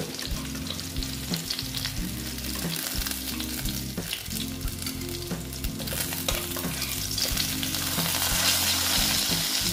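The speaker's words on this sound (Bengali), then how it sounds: "দেখো মাছগুলো আমি ভেজে নিচ্ছি।" Katla fish pieces fry in hot oil with a steady, dense sizzle throughout, joined by occasional stirring knocks, while a tonal music bed runs beneath at a fairly even level.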